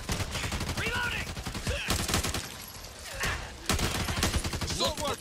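Rapid gunfire bursts from the co-op zombie shooter Back 4 Blood, loud and close, come in dense volleys with brief pauses, while players' voices and in-game sounds run underneath.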